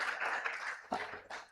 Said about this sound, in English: Let's give him a big, big round of applause, ladies and gentlemen